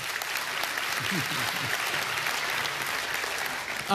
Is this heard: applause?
yes